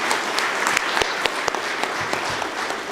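A conference audience claps for members of the organizing committee at an African curriculum association conference, steady loud applause from many hands filling the room throughout.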